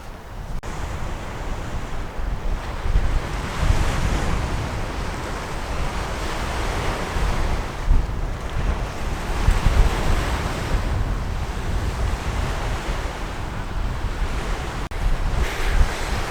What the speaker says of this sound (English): it's really windy here, so we'll see how good this mic is that I bought